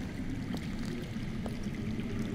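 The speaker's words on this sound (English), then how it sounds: "That's water. I hear water. From underground." Underground water flowing in a Game of Thrones video game, a steady low rushing wash with faint trickles and drips, continuous and moderately near, no voices.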